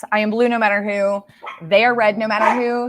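A dog barks and yelps loudly at close range, overlapping a person talking steadily throughout.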